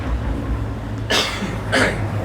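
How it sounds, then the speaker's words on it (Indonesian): Two short, raspy coughs sound close by, about half a second apart, over a low background hum. "batuk semakin menjadi"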